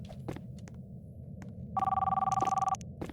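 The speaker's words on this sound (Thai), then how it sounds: "โทรศัพท์ดังขึ้นอีก" A telephone rings once inside a Roblox horror game, a rapid trilling electronic bell lasting about a second over a quiet, low rumbling background.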